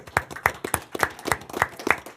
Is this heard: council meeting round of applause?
yes